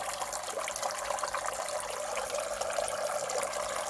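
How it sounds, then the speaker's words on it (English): Water runs and splashes steadily in a backyard koi pond where new oxygenator plants were just added, a continuous close hiss of moving water with no pauses and no voices. "the sound of the water in the background"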